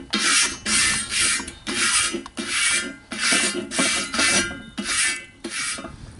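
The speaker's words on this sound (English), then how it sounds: "scrape it off with either like a wire brush or maybe some aluminum foil" A wire brush scrapes back and forth across a steel discada pan in steady, rhythmic rasping strokes, about a dozen close, loud passes with brief gaps between them and no talking.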